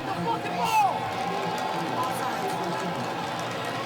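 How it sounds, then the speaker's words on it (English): Crowd noise in a packed stadium at a 2016 Legends Football League game, Austin Acoustic versus Seattle Mist: a steady roaring wash of spectators, with a commentator talking over it. "A lot of that has to do with the crowd noise."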